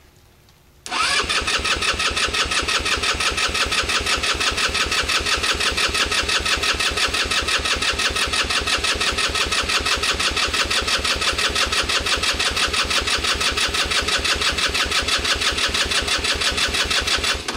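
An old derelict vehicle engine cranks briefly, then catches and runs loud and close with a fast, even firing beat that holds steady throughout.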